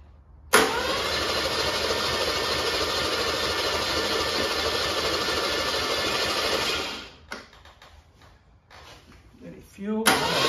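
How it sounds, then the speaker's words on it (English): A Holden 161 red motor that sat unused for over 20 years is cranked over by its starter in one long, steady, loud whirring run, followed by a few quieter clunks and a brief second burst. "let's wind this thing over and get some oil pumping through it and get it ready to start"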